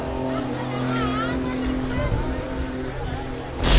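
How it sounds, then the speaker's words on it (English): BMW E30 being spun at a car spinning event, a loud continuous engine roar with rising and falling revs, ending in a sharp burst of noise. "Tina, only lady spinner out here today, driving the BMW E30."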